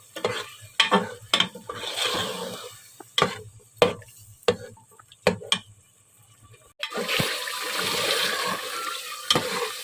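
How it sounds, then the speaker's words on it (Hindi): Beef with spices fries in a pot for aloo gosht, with repeated scraping stirs of a spoon against the pot and a steady, moderately loud sizzle that swells near the end. "और इसे अब हम अच्छी तरह भून लेंगे।"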